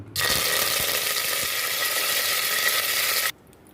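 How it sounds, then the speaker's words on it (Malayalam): Onion dropped into hot oil for a beef-free kappa biriyani bursts into a loud, even, close sizzle that holds steady for about three seconds before cutting off abruptly. "ഞാൻ എണ്ണ ചൂടാകുമ്പോൾ സവാള ഇട്ട് വയറ്റണം"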